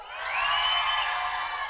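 A church congregation shouts for joy in one loud, sustained roar of many voices that swells and holds.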